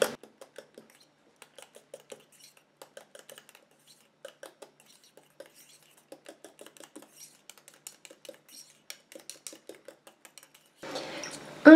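A utensil mixing homemade foot cream ingredients in a container, with sparse light clinks and scrapes tapping at irregular intervals over near silence, then a short burst of louder noise at the very end.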